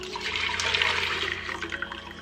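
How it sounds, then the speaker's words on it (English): Steamed apple juice pours from a steamer reservoir into a pot, a steady splashing liquid stream with no talk, moderately loud and continuous throughout. "right now I'm just going to pour it right into this pot"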